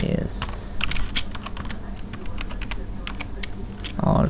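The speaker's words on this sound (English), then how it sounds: "Okay, now here's an enter text here. Okay, here I type" Rapid typing on a computer keyboard, dense clicking keystrokes close up and steady across the clip, with a brief voice at the start and end.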